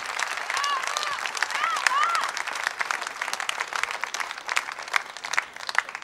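An audience at a dance gala claps in sustained, dense applause that fills the whole stretch. A few voices call out over the clapping near the start.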